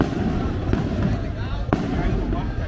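Firecrackers going off at a street market in El Salvador, two sharp cracks standing out over a dense, noisy crowd background with people talking.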